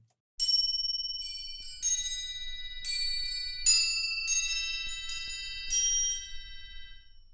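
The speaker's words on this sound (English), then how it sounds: "So here we have these crotalis, which are basically kind of chimes." Crotales, the very high-pitched orchestral chimes from the EastWest Hollywood Orchestra sample library, strike a series of bright metallic notes, each ringing on and decaying, about eight hits spaced irregularly, clear and alone.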